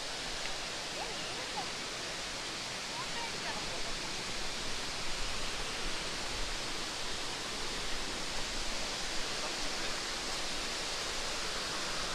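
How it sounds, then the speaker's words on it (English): The Thoman Kuttu waterfall gives off a steady, soft, broadband rush of falling water, continuous and even throughout, with no voices. "So here is the waterfall"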